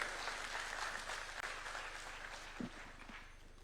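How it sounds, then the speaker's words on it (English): An audience applauds to welcome a speaker at a conference, with dense, steady clapping heard somewhat distantly and fading slightly toward the end. "Let's welcome him with a clap, please."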